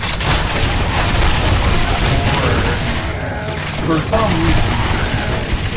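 Constant loud gunfire and impacts from shooting toilets in the zombie shooter game Zombie Assault 4, a dense unbroken barrage with people talking over it.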